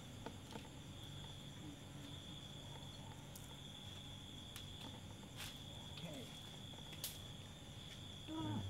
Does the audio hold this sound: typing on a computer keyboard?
no